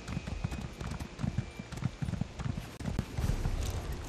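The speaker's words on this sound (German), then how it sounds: "Echt jetzt auf das Pferd und dann ins Wasser, Daniel?" A horse's hooves clip-clop at a walking rhythm in The Elder Scrolls Online. The steps are quiet and steady, and a soft ambient bed sits underneath.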